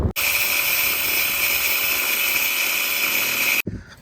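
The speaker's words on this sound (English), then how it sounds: "I cut a little bit off that bolt" A power tool cuts through a subframe bolt on a slammed Nissan 240SX, giving a loud, steady, high-pitched whine for about three and a half seconds before stopping abruptly.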